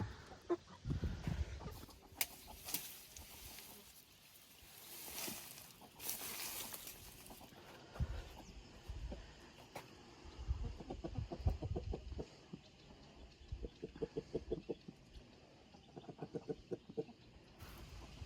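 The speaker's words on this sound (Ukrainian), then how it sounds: "зараз півники, курочки повністю всю цю підстилку порозгрібають і все зерно добре повикльовують" Hens and roosters cluck repeatedly in short bursts, with scratching and rustling through litter and occasional louder squawks, close by.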